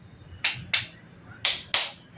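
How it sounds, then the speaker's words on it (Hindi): Two pairs of sharp, close hand claps made with both hands, each pair quick and crisp, separated by a short pause, in an otherwise quiet room with no talking. "अभी दोनों हाथ से ताली मारो एक बार"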